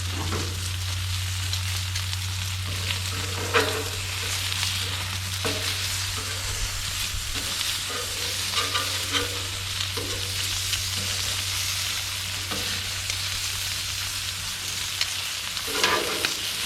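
Food sizzling steadily on a hot Blackstone griddle while pieces are flipped with a spatula, close-up with occasional scrapes and taps over the constant frying hiss and a low steady hum.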